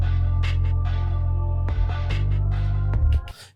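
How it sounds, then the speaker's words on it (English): An MPC One bass line playing inside a song, steady deep sustained notes carrying under a looping beat with sharp percussive hits, changing pitch a couple of times before the track cuts off. "If you listen to the bass now, you can hear it in the background."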